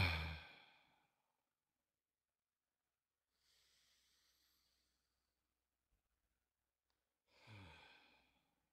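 Slow, deliberate breaths out as a calming breathing exercise for pre-date nerves, three long exhalations spaced a few seconds apart, the first and last fuller and closer, the middle one softer and airier, with no talking.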